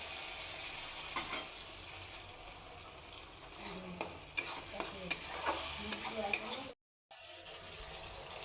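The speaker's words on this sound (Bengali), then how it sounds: "টুকরাগুলোকে ভালো করে লাল লাল করে ভেজে নেব" Ash gourd pieces salted and coated in turmeric fry in a pan with a steady soft sizzle, while a spoon stirs and scrapes them in short bursts, close up, followed by a brief dropout.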